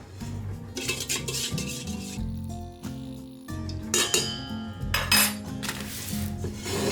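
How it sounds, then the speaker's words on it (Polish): A utensil clinks and scrapes around a bowl while mixing sugar and yeast into water for pizza dough, with repeated stirring strokes and light taps, close up. "Cukier dokładnie mieszamy razem z drożdżami, które wcześniej rozpuściliśmy w naszym naczyniu z wodą."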